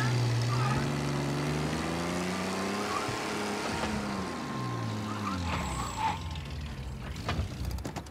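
A car in the video game Mafia: Definitive Edition drives with a loud, steady engine drone that rises and shifts in pitch, ending in rattling mechanical noise and speech.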